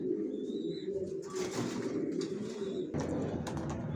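Racer pigeons coo softly at close range, a low murmuring call repeated over a faint background, with a brief rustle of movement.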